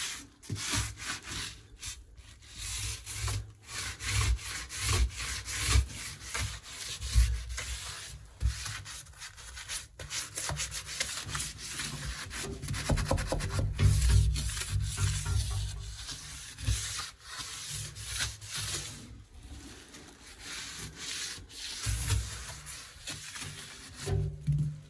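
Old silicone sealant is scraped out of a leaking shower tray in a steady run of rough rubbing and scraping strokes that keeps going for the whole stretch, close and fairly quiet, with no talk.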